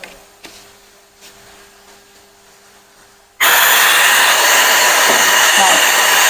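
The pneumatic industrial vacuum cleaner AX1015, fitted with a small nozzle, kicks on abruptly after a few seconds of quiet room tone and then runs with a loud, steady, close whooshing roar.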